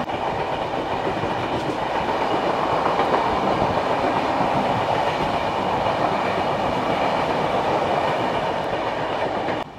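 A passenger express train departing Kharagpur station runs steadily along the rails, a continuous loud rumble with rhythmic wheel clatter heard from inside a carriage, no voices.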